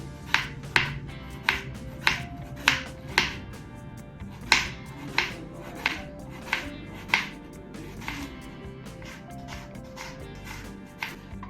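A knife chopping cabbage very thinly on a board for salad, a run of crisp evenly spaced chops about every half second, close and clear, slowing and softening near the end.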